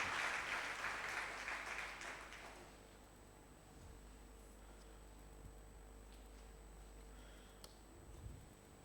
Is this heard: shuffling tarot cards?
no